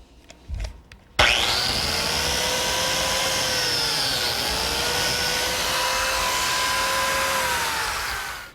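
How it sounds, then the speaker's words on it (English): A biscuit joiner fitted with an auxiliary fence cuts a slot into a pine miter joint: a loud, close motor whine spins up sharply after a few quiet knocks and holds steady for about seven seconds before winding down. "To make the biscuit slot, I need this auxiliary fence on my biscuit joiner, and the miter just fits right into the corner."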